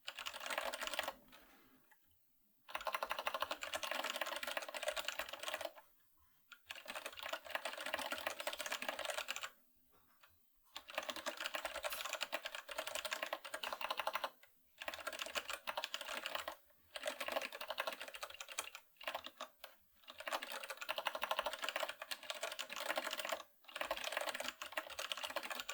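Someone types on a computer keyboard, a close, quiet run of rapid key clicks that comes in bursts separated by several short pauses.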